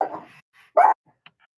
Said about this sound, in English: Nick, what are you barking at?